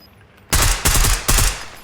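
Krig assault rifle fire in the Warzone battle royale game, three loud bursts of automatic shots in quick succession, each burst lasting a fraction of a second, with no talk.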